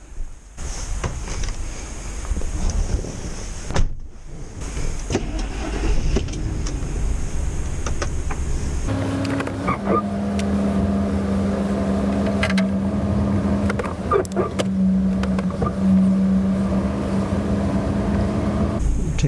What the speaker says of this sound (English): I'm going to take it for a test drive.